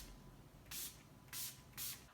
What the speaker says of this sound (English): I'm going to use this Urban Decay All Nighter Makeup Setting Spray.